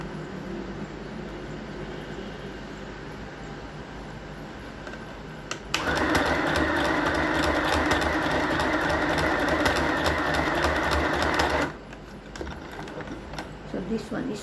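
A sewing machine stitches a trouser front seam from waistline to crotch through two layers of fabric, running in one loud, steady burst of about six seconds, with quieter room sound and talk before and after.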